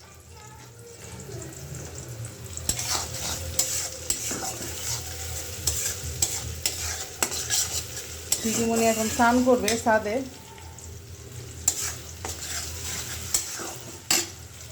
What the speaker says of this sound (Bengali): জিরা সম্বার দিয়ে পেঁয়াজটা ভাজা ভাজা হয়ে গেছে।